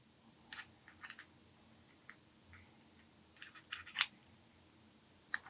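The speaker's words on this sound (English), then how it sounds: "now we're going to put our heatsink back on" Small metallic clicks and taps as a heatsink is set back onto a tiny NVMe enclosure with an LCD, a scattered run of light close ticks ending in a sharper click, with no talk.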